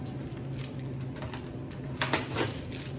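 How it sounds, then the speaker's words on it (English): Masking tape peeled off a screen-printing screen after printing, a few close, soft crackling rips and strips over a quiet room, with a brief louder tearing burst near the end. "Just gonna take off my tape now."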